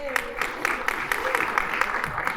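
Applause in a room at a Passaic school awards event as Jersey Mike's sandwiches are brought in, a steady patter of clapping from a crowd, with a raised voice over it early on.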